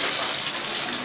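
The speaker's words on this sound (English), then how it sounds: "Let's check the hot water real quick." Hot water gushes steadily from a tap in an apartment unit, a loud, continuous broadband rush that holds unchanged for the whole moment with no voices over it.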